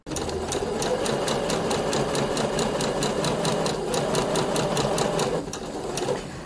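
A sewing machine runs a 1 cm seam around a blouse bodice, its needle hammering in a fast, even rhythm for about five seconds before the motor slows and stops. The sound is close and alone.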